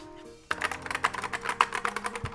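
Rapid typing on a roughly 40-year-old 1980s Mac keyboard with mushy, sticky keys, a close run of uneven clacks beginning abruptly after a short, quiet lead-in.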